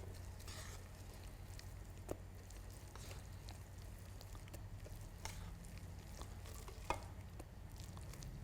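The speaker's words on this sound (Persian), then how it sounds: "آرد اضافه کرده مخلوطش میکنیم." Flour being stirred into pakora batter in a bowl, giving a steady soft scraping and churning that runs throughout, with a couple of sharper spoon taps against the bowl.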